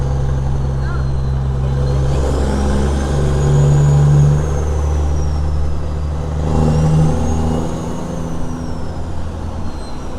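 A heavy truck engine rumbles loudly close by, with a deep staccato Jake brake roar swelling twice while a person talks over it.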